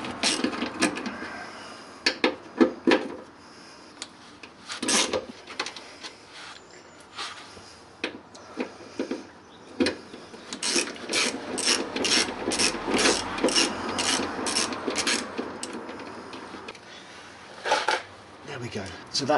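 A wrench works the crossmember nuts loose on an MGB gearbox, with repeated ratcheting clicks and metallic rasping in bursts, close and fairly loud.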